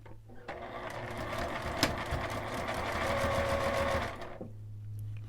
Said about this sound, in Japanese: それでミシンをかけます。